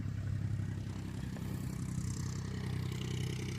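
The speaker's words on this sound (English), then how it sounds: "It's the motor of the tractor." Old tractor engine running near Caraorman in the Danube delta, a steady low mechanical drone with light clatter, continuous and fairly close, without talking.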